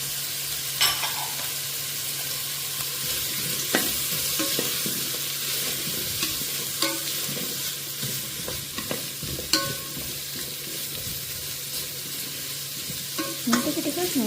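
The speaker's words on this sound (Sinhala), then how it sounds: "මේක ටිකක් මේ විදිහට ෆ්‍රයි වෙන්න දීලා" Ingredients for an all-in-one rice dish fry steadily in a pan, with a continuous sizzle and occasional scraping stirs and clinks of a utensil. No one speaks.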